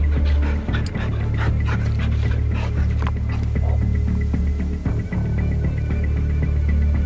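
Rapid, rhythmic panting from a pack of African wild dogs in the Botswana savanna, close and continuous over a low throbbing hum, with quick breaths overlapping throughout.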